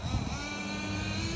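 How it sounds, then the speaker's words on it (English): Traxxas Jato 3.3 nitro supercharged RC car engine buzzing at high revs through a gear shift, a brief, close, continuous raspy drone. "I heard that gear shift. It's pretty smooth."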